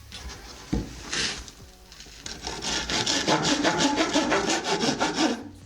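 Hand saw cutting through wood while building garage shelves, with a steady run of rasping back-and-forth strokes that grows louder toward the end, preceded by a few scrapes and knocks.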